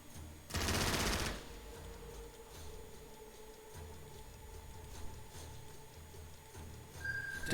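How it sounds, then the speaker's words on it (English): Burst of machine gunfire in the Pacific war strategy game Strategic Mind: Pacific, a loud rapid rattle lasting under a second, followed by quieter ambient game sounds and faint clicks. "Devastating gunfire."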